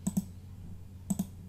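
Mouse clicks while working in Adobe Illustrator's Shape Builder tool: two quick pairs of sharp, close clicks separated by about a second of quiet hum.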